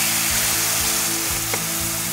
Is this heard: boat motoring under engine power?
no